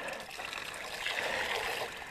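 Creek water trickles and gurgles as it fills a 1 litre cup, a steady close liquid rush rising slightly in the middle, with no talking.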